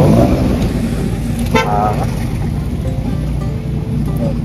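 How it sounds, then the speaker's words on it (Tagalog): Street traffic in Camarines Sur with a violet car going by: a steady, loud broadband rush of road noise with a short horn toot near the middle. "Ganda ng sasakyan mga kalingap."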